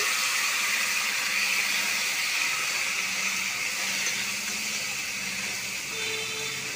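Taro leaves cooking in a pan with five-spice, dried chilli and bay leaf, giving a steady, close sizzling hiss that runs unbroken throughout, with no talking.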